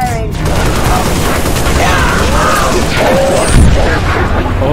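Heavy gunfire in Halo: Reach fills the scene, with dense, loud bursts and booms overlapping continuously, along with mechanical whirs and sweeping effects, and no clear speech over it.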